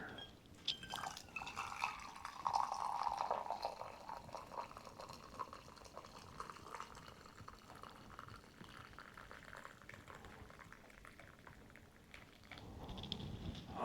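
Hot coffee being poured and creamer stirred in at a snowy forest campsite, a soft trickling and splashing liquid sound that swells early then settles into quiet bubbling and dripping, close and faint, with no talking.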